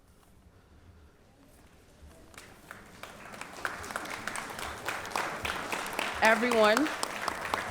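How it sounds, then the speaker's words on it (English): Applause for faculty and staff at a 2023 academic convocation begins faintly and swells into steady, full clapping from a large audience, with a speaker's voice briefly heard over it. "please help me give them a round of applause, a well-deserved round of applause"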